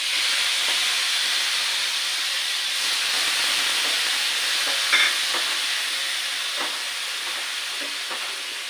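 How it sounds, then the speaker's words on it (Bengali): Whole spices for a brinjal, potato and fish curry tempering in hot oil, a loud continuous sizzle and hiss with occasional stirring clicks and scrapes, no talk. "এবারে মশলাগুলো দিয়ে দিচ্ছি"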